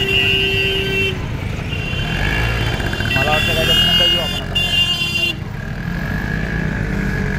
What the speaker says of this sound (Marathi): ट्रॅफिक जास्त जरा आज